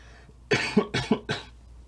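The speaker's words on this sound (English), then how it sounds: "coughing in the coffee." Three sharp coughs come in quick succession, close and fairly loud, with brief gaps between them and quiet on either side.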